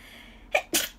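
A single close, sharp sneeze in two bursts, a quick intake followed by a loud explosive release, in a quiet room.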